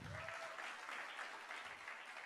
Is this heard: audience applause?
yes